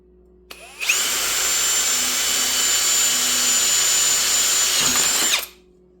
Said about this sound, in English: It's an important thing when you're drilling a piece on a welding table.